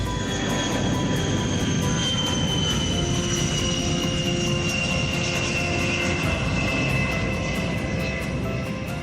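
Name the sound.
WB-57 aircraft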